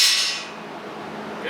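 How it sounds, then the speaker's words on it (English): A welded steel tree sculpture dropped for a drop test, ringing out with a bright metallic clang that decays over about a second, close and loud. "let's go ahead and see if it passes the drop test."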